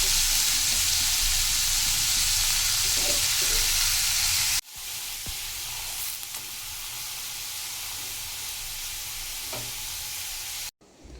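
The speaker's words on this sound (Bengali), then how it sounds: "ওই কড়াইটাতে এখন আলুটা ভেজে নিচ্ছি" Potatoes frying in a wok give a steady, loud sizzle that drops back after a short cut, then carries on more softly with a few stirring scrapes.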